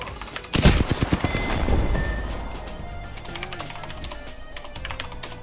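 Bursts of gunfire in the video game Apex Legends, a loud rapid volley near the start followed by fainter scattered shots, with keyboard typing clicks throughout.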